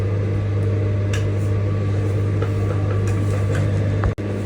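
Sewing machine top stitching cording onto a dress, a steady close whirring motor hum running throughout, ending in an abrupt stop.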